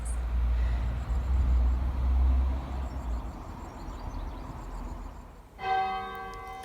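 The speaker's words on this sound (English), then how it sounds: "I don't know if you can hear that chimes coming from the church" Distant church bells chime faintly over a steady low rumble of traffic, then a clearer ringing bell tone rises near the end.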